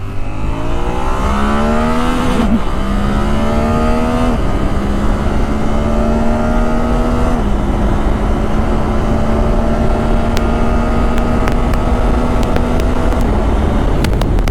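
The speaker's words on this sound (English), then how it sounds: "I really love the way how this motorcycle actually delivers the power" A Suzuki V-Strom 800DE motorcycle engine revs hard and climbs in pitch through several quick quick-shifter gear shifts, loud and close, with steady wind rush throughout.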